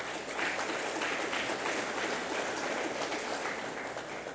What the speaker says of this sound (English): Let him give him a round of applause for that.